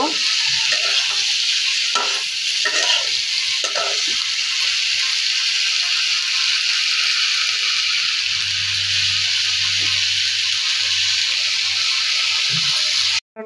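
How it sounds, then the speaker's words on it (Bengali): Banana stem or banana flower stir-frying in a pan, with a steady hiss and sizzle throughout and a spatula scraping and stirring in irregular strokes, heard close up with no talking. "ভালোভাবে নাড়াচাড়া দিয়ে ভালোভাবে নাড়িয়ে চাড়িয়ে কষিয়ে নেব"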